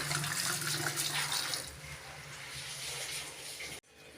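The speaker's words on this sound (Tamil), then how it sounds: "தண்ணியெல்லாம் ஊற்றியாச்சு." Water pours in a steady, rushing stream into a pot of palmyra sprouts for several seconds, then cuts off abruptly, leaving a quieter background.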